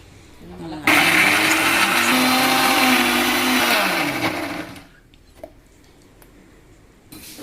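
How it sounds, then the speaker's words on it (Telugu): A mixer grinder whirs loudly for about four seconds, a steady high-pitched motor roar, then cuts off, leaving quiet room noise. "ఇప్పుడు మసాలా అంతా మిక్సీకి వేస్తున్నాను"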